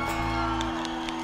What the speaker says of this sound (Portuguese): Senhores, palmas pra Duval Leles